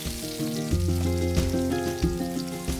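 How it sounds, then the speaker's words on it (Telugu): Stuffed bitter gourds fry in oil on a medium flame, a close, dense and continuous sizzle with crackling pops throughout, no voices. "అన్ని వైపులా తిరిగేసుకుంటూ ఫ్రై చేసుకోవాలి"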